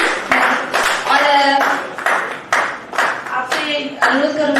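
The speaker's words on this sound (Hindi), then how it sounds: "अगर प्रस्तुति पसंद आती है तो तालियां बजाइए।" Clapping from the audience at a Hindi poetry festival, the World Kavyotsav 2025 in Palam, Delhi. Scattered, uneven claps sound in bursts beneath a loud voice that keeps speaking throughout.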